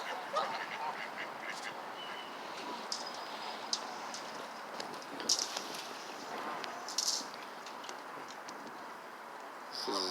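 Scattered duck quacks ring out over a steady outdoor wash of background noise, with a few sharper calls standing out now and then, in a Boston city park.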